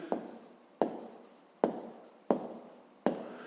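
Pen writing on paper while working a fifth-grade math exercise, five separate strokes or short scribbles, each a sharp scratchy onset fading off, close and clear with no talking.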